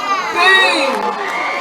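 Poetry slam audience cheering and shouting at a 2018 performance, a loud continuous roar of many voices with whoops rising and holding steady.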